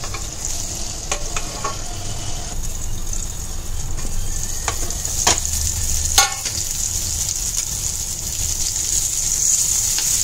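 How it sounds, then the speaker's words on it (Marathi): Stuffed tinda sizzling steadily in hot oil in a pan, with a continuous frying hiss and occasional stirring scrapes and pops, no voices. "त्याला सगळीकडून आहे ना छान ते तेलामध्ये शेकले गेले पाहिजे."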